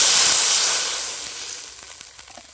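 Water poured into a hot wok for cooking flat beans bursts into a loud, close hissing sizzle that gradually fades over a couple of seconds, with faint clicks near the end.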